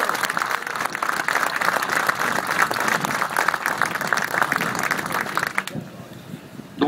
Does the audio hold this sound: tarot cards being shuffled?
no